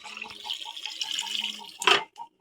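Water pours into a pot of cut, washed elephant apple set to boil, a close, bubbling splash and gurgle over about two seconds with a sharper burst of splashing near the end.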